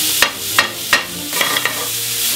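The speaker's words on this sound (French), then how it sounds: "Je les fais suer pour en fait les caraméliser." Shallots sizzling in a little oil and butter in a pan as they sweat and caramelise, a steady close frying hiss broken by several sharp stirring scrapes.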